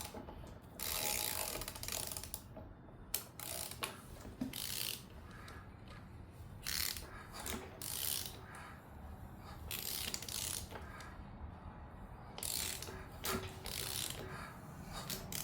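A used car engine bought through a Facebook listing is turned over by hand with a ratchet, a series of quiet clicking ratchet strokes in irregular bursts with pauses between, no talk.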